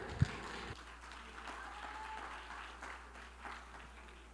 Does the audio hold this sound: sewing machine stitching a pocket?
no